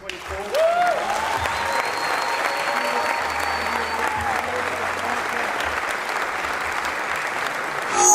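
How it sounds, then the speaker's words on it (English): A crowd claps steadily and loudly for eight seconds in honor of Stephon Castle, San Antonio Spurs guard and NBA Rookie of the Year, with an even roar of hands and no clear speech. "Let's have one more round of applause for our 2024."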